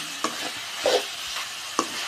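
Brinjal sautéing in a pan with turmeric for a dried-fish thokku, a low background sizzle broken by a few distinct scraping stirs of a spatula, fairly close, with no voices.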